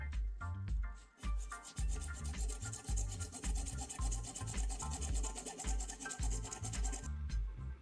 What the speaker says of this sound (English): clamp it in a vise and use a hacksaw to cut off the threaded part